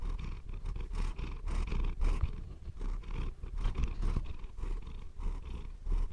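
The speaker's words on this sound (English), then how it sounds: "And Chili has also never purred so much." A pet cat named Chili purrs steadily and close by, a low continuous rumbling rhythm that keeps going for several seconds with no talking over it.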